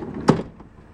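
A manual sliding door on a Toyota Sienna minivan jams partway, giving one sharp thud and clunk followed by a fading rattle, close and fairly loud with no talk.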